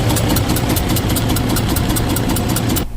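A Detroit Diesel DD13/DD15 truck engine with cylinder head and valve damage runs loudly close by, with a rapid rhythmic ticking knock over the deep rumble until it drops off near the end.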